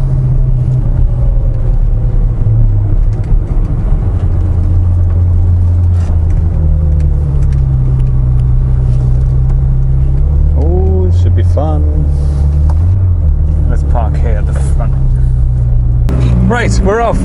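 Car engines hum and rev steadily as vehicles pull away together, with someone talking over the loud, continuous motor drone.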